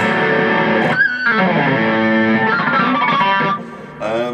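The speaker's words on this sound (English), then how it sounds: "I'll fire up some distortion and you can see what this button does." A heavily distorted Suhr electric guitar plays sustained, buzzing chords up close, with a brief pause before a final strummed note.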